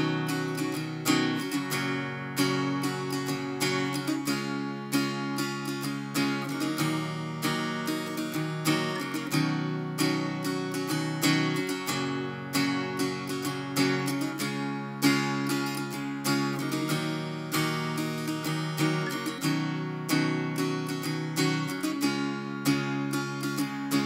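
Steady acoustic guitar strumming runs through the chorus chord pattern of a song with a varied rhythm, continuous and close, with no voices.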